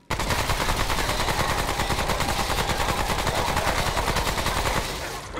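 Rapid, sustained gunfire from a video game boss fight in Remnant: From the Ashes, a dense automatic stream of loud shots aimed at a boss's head, running continuously with no talk.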